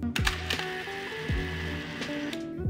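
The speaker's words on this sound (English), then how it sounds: "The camera will automatically load the film to the first frame." A Pentax 645NII medium format film camera motor-winds film to the first frame, a close, quiet mechanical whir of gears punctuated by sharp ratcheting clicks.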